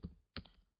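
Keyboard typing while logging in to an Office 365 account: two short bursts of quiet, close keystrokes separated by a brief pause.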